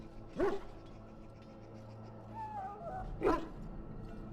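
A dog in the Dragon Age: Origins game gives two short, yelping barks a few seconds apart, fairly faint against a quiet ambient background.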